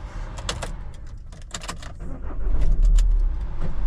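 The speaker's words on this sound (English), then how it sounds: "I have to do this, so I have to turn the engine on" A car is started with a jingle of keys and clicks, then the engine catches and rises into a loud low rumble as it is revved, heard up close from inside the vehicle.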